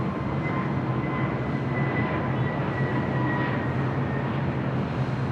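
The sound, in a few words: WestJet Boeing 737-800 airliner arriving at LAX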